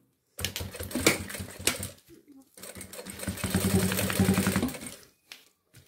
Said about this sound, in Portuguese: E agora eu vou passar uma costura de segurança com ponto número 5